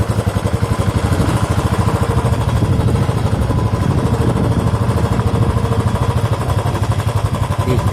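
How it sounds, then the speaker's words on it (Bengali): A motorcycle rides along a rough, unfinished road near Chuikhim in the Dooars, its engine a loud, continuous, pulsing drone with a low throb and rattling clatter close by the whole time. "সবার পক্ষে মনে হয় এখানে বাইক রাইডিং করা খুব কঠিন"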